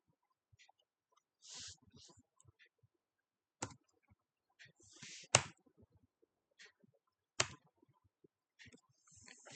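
Keystrokes on a computer keyboard come through as scattered, close clicks and short bursts of typing separated by quiet pauses, alone with no voice.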